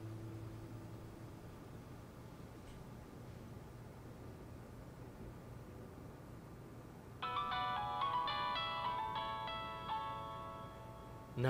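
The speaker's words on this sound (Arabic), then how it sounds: "بس رح رد على التليفون" A mobile phone ringtone starts partway through after a quiet, humming room, a bright melodic electronic tune ringing on steadily to the end.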